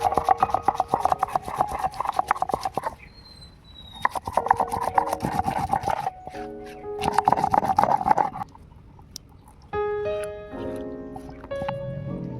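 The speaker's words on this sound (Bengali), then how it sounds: "এবারে পেঁয়াজ বেটে নেব।" Onion being ground into paste on a grinding stone for a chicken aloo kosha recipe, a loud, close, rhythmic rasping and rubbing in repeated bursts with short pauses between strokes.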